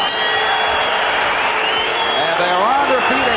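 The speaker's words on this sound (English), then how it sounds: "And they are on their feet and cheering in Buffalo for a marvelous bout." Boxing crowd in a Buffalo auditorium on its feet, cheering and applauding at the end of a twelve-round lightweight title bout, a loud steady roar with a voice speaking over it near the end.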